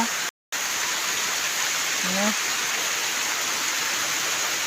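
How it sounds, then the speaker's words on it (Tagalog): Heavy rain falls in Bicol in a constant, close hiss with no letup; a brief tonal call rises once above the downpour partway through. "Ayan yung ulan dito sa Bicol"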